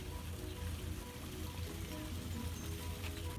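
Heavy rain pours down outside at a film location, a steady, dense hiss of drops on surfaces with no other sounds breaking through.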